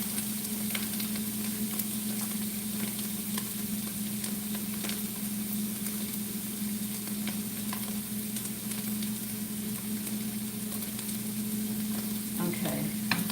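Mushrooms for a goat, ale and mushroom pot pie fry in a pan, giving a steady, close sizzle that runs unbroken throughout with occasional stirring scrapes and no talking.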